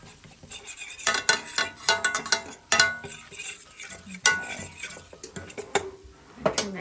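A flour roux bubbling in a pan, scraped and stirred with a fork: repeated metallic clinks and scrapes against the pan in an uneven rhythm over a soft sizzle, close up and alone.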